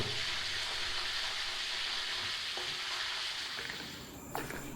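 Chicken wings fry in hot oil with a steady, dense sizzle that holds evenly throughout, with a brief clatter near the end and no talking.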